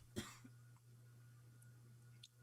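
A single sharp cough near the start, followed by a faint throat sound, over a low steady hum in an otherwise quiet room.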